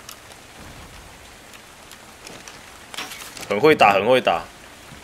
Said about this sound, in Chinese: 哎、欸，下雨了，下雨了